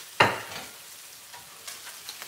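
Corn, bacon, onion and garlic frying in an oiled pan, a sharp sizzle burst as food is stirred, then quieter crackles and small ticks, close by.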